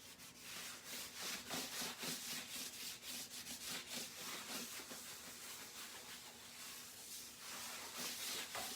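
Hard, cold wax rubbed firmly onto a reusable silk screen transfer in a chilly craft room, giving a steady, scratchy friction with quick repeated strokes, close and continuous with no talk.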